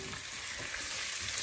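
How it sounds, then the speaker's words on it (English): Shrimp frying in oil as a spatula stirs them, for Jamaican pepper shrimp; a steady, close sizzle with soft scraping all through, no voices. "We're just gonna stir this up."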